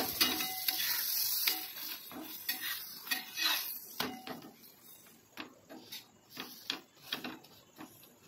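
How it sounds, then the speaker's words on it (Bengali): Parathas frying in butter in a pan, a soft sizzle under repeated close clinks and scrapes of a metal utensil against the pan, coming in uneven bursts throughout. "তো যে বাটার দিয়ে পরোটাগুলোকে ভেজে"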